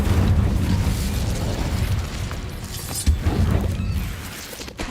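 Incendio fire spell cast in Hogwarts Legacy: a rushing, roaring burst of fiery game effects with low booming rumble, crackles and mechanical clicks, loud and close, with a sharper pop near the end.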